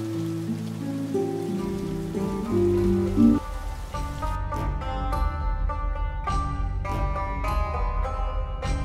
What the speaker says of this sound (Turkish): Yağmur çiseliyor.